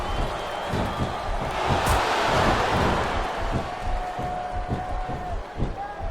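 Arena crowd in Smackdown vs Raw 2007 wrestling, a broad roar with rhythmic pulsing chant beats throughout, steady and fairly loud, with faint commentary underneath.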